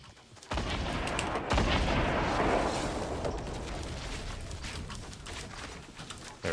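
Grenade blasts in Fortnite: one loud explosion, then a second heavy boom a second later, followed by a long rumbling roar that slowly fades.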